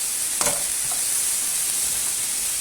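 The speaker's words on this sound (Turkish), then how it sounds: "Şöyle biraz karıştıralım." A diet zucchini dish with spices and tomato being stirred in a pan, a steady close sizzle with a single utensil scrape early on, no voices.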